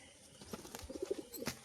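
Pigeons, a female and a male pet pair, coo in a series of soft, low, rounded calls close by, with a few short chirps and light rustling between them.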